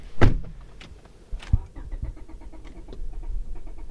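A 2002 Honda Avancier 2.3 engine cranks without catching because it is out of gas, giving a few short bursts of starter whirring close by, with faint clicks and low rumble between them.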